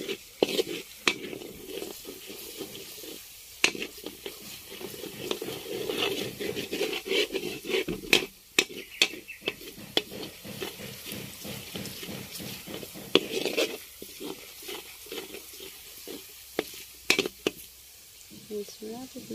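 Latik (coconut curds) fry in a pan with a steady crackling sizzle and scattered sharp pops and scrapes of stirring, running under a person's talk throughout.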